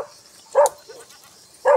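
A small dog barks twice, short sharp yaps about a second apart, close and clear against near silence.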